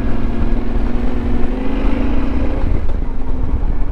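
A Yamaha Ténéré 700 motorcycle engine drones steadily while riding forest tracks, a close, loud rumble with a rising pitch that eases after a couple of seconds.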